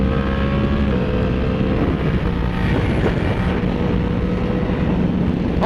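A Yamaha R1M sport motorcycle rides at speed with its engine droning loud and steady, pitch shifting as it changes gears, accompanied by constant wind rush and no talking.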